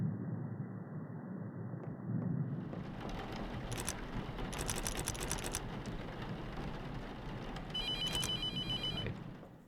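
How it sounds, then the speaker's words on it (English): Telephone ringing in the horror game The Mortuary Assistant, repeated bursts of bright ringing over a dark low ambient drone, growing busier toward the end. "The phone rings again."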